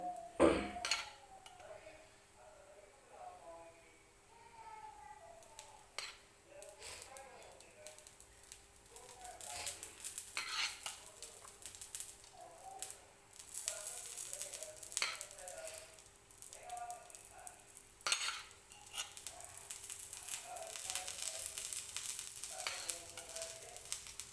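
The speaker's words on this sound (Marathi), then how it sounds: "रवा लावून घेतलेला आहे आणि ते नॉनस्टिकच्या तव्यावरती फ्राय होण्यासाठी ठेवलेलं आहे" Semolina-coated slices of eggplant, lightly oiled, fry on a nonstick griddle with a steady soft sizzle and crackle that runs throughout, broken by occasional utensil clinks and scraping. A voice talks intermittently over the frying.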